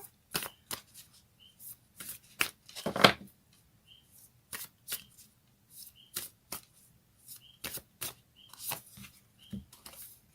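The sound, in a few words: shuffling Moonology oracle cards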